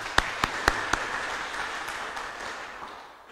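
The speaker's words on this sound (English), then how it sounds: "Can we give him another hand of applause?" A conference audience applauds, a few sharp claps up front blending into a steady wash of clapping that slowly fades away.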